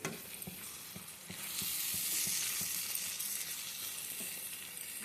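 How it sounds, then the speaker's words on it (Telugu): Ridge gourd and chana dal curry with coriander being stirred in a pan, a steady sizzle with regular soft scraping strokes of the spoon, close and without talk. "బాగా కలిపేసేయండి."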